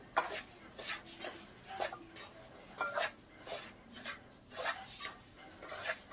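Grated coconut being stirred into a rava ladoo mixture, giving a steady series of soft scraping strokes of a spoon against a pot, evenly rhythmic and fairly quiet, with no talking.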